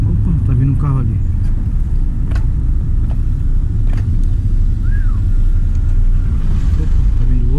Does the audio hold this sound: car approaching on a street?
yes